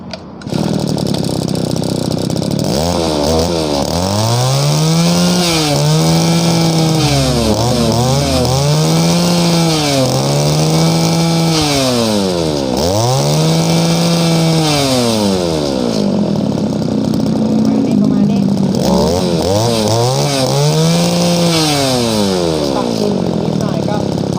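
A used Japanese grass cutter engine runs loud and close, repeatedly revving up and dropping back in rising and falling surges over a steady buzzing idle.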